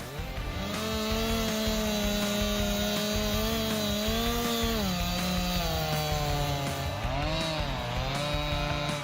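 A Legend chainsaw cuts through large logs, its engine roaring loud and continuous with pitch slowly shifting as the load changes, sustained without pause.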